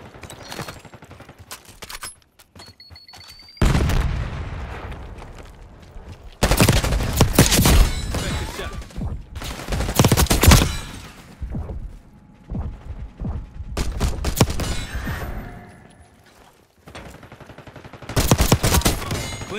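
Bursts of gunfire in Call of Duty Black Ops 6 multiplayer, close and loud, come in several separate volleys with mechanical clicks and rattles from weapon handling between them.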